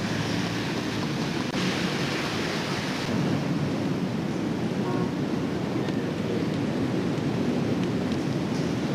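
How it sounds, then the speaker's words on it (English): Heavy rain pours down at night, a dense, steady roar of broadband noise with a low rumble beneath, constant and loud throughout with no talking. "This heavy rain persisted through until 2 a.m. the next morning"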